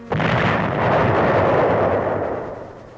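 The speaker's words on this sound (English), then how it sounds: "The Nazis' return fire was as strong as ever." A heavy artillery blast from WWII combat footage near Cassino in 1944 hits suddenly and loudly, then rumbles and slowly fades over about three seconds.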